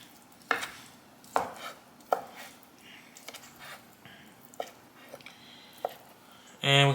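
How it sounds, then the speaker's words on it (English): A knife thuds sharply onto a cutting board through seared chicken in a rough, uneven series of about eight chops with pauses between them, followed by a brief louder sizzle-like burst at the end. "Just a rough chop."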